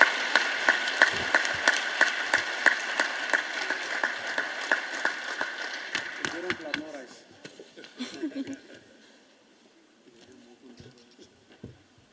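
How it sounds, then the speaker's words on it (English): Audience applause at a company end-of-year staff retreat and awards ceremony, steady rhythmic clapping from a crowd welcoming a managing director, fading out after several seconds into quieter room noise and brief talk. "Can you please give them another big round of applause?"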